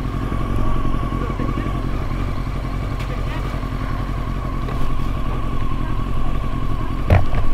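A Honda motorcycle rides along with a constant, loud engine drone that holds steady throughout and briefly swells near the end.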